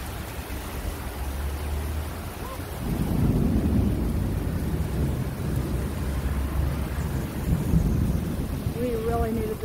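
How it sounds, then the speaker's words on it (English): Heavy sideways rain pours steadily during a thunderstorm on a hot day, with low rolling thunder rumbling beneath the dense hiss of the downpour. "so this is a nice rainstorm. Just sideways rain for a little while. Got some of the thunder and lightning"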